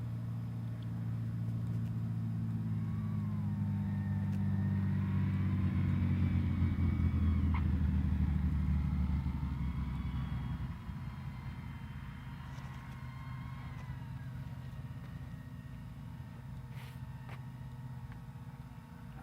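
A Bonanza light airplane landing on runway 19 at Mayfield, heard as a steady low engine drone that swells for about ten seconds, then drops to a quieter, rougher rumble as it rolls out.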